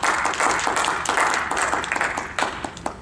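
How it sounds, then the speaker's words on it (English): A conference audience gives a round of applause, a fairly close, even patter of many hands clapping that tapers slightly toward the end. "how about a round of applause for the rest of the team?"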